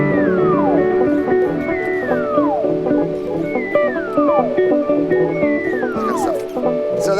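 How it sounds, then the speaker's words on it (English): Electric guitar through an echo effect plays repeated descending sliding phrases, each gliding down and trailing off in delayed repeats, four times in a steady cycle, loud and close with no talking. "so that's the echoes."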